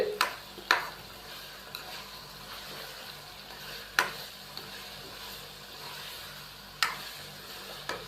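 Chicken karahi with whole green chillies is stirred in the pan, a few sharp spoon knocks standing out over a faint, low sizzle.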